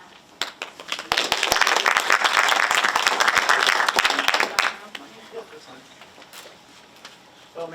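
A business breakfast crowd applauds as a speaker walks up, loud dense clapping with sharp individual claps that swells then dies away after a few seconds, followed by quiet room noise.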